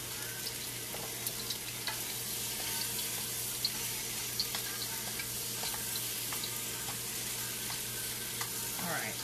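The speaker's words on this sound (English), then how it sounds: "so I'm going to drain some of it off." Hot rendered fat drains from a frying pan while a Chinese dish cooks, giving a steady close sizzle with running, splashing liquid. Light clinks and scrapes come through now and then, and there is no talking.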